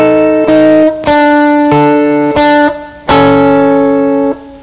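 Distorted electric guitar playing an intro passage of two strings struck together with a pick, with ringing sustained strums repeating in a steady rhythm, loud and alone.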